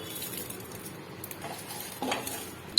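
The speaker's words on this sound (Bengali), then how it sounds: "জিরে সর্ষে দিয়ে ভালো করে ফ্রাই করে নেব।" Cumin and mustard seeds frying in oil in a pan, a quiet sizzle with light stirring and a few utensil clinks, ending in a sharp metallic knock.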